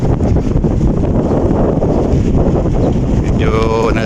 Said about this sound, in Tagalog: Malakas yung hangin!